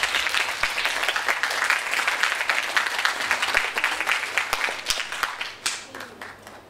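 Audience applause for speech-competition contestants fills the room: dense, steady clapping from a sizable crowd, loud and continuous, thinning slightly toward the end.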